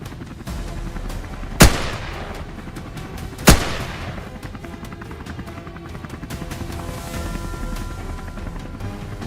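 Two loud rifle shots crack a couple of seconds apart during an aerial wild hog hunt, above a steady, dense helicopter drone.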